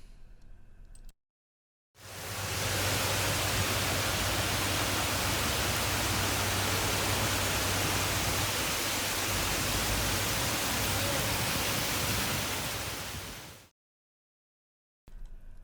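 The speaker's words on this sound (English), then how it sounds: "The water flows over weirs at the very end" Steady broadband rushing of water pouring over weirs at the end of water treatment plant basins, loud and continuous for about twelve seconds between short silent cuts.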